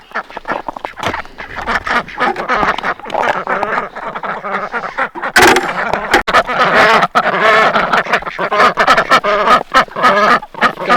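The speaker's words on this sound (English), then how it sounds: "Ducks also like their fresh water, but they won't get quiet till I get them their morning bugs." Khaki Campbell ducks quack loudly and continuously on a winter morning farmyard, a dense overlapping chorus of calls with occasional chicken sounds mixed in.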